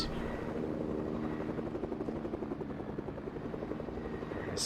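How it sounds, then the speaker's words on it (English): A helicopter in Fortnite drones steadily with a dense, continuous rotor thrum, loud and unbroken throughout, with no talk. "They took the helicopter."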